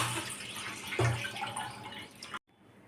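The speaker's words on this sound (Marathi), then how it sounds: "हे दुसरं पातेलं पाणी टाकत आहे" Water splashes and pours into a pot for about two seconds, with a brief gurgle, then stops abruptly leaving near silence.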